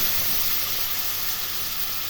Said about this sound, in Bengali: এটা এখন ভাজা ভাজা করব।